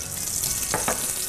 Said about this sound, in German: Dann braten die schön an.